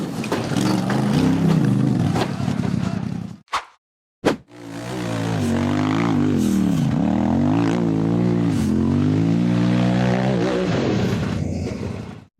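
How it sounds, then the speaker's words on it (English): A white steel frame off-road buggy revving hard as it climbs a steep rocky slope, loud engine roar with rising and falling pitch, cut by a brief silent gap before the throttle surges again. "The buggy accelerated hard up the steep rock face"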